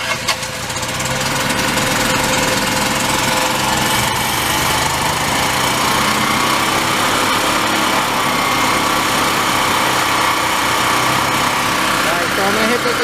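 The small engine of a 2020 utility base model runs steadily at a loud, close, constant drone with a buzzing mechanical vibration, continuous and unbroken throughout.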